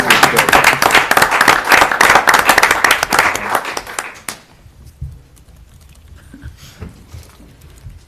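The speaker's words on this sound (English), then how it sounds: "a round of applause" Lively applause from a group at a city council meeting for about four seconds, then it stops abruptly, leaving a quiet room with faint stray sounds.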